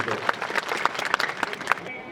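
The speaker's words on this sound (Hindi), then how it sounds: "एक बार जोरदार तालियों की गड़गड़ाहट के साथ में अभिनंदन कर दो" A crowd at a political office inauguration applauds leaders seated on stage, with dense clapping and a few sharper individual claps standing out.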